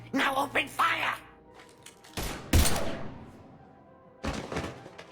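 Gunfire bursts in the sci-fi shooter Mass Effect 3, a loud sharp volley after a spoken line, followed by another short burst, with voices heard at the start.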